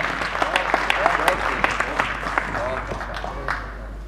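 Audience applause at an Urdu poetry mushaira in Portsmouth, a steady patter of many hands clapping in a hall, with a voice talking over it.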